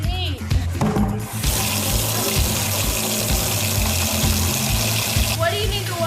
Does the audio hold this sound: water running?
yes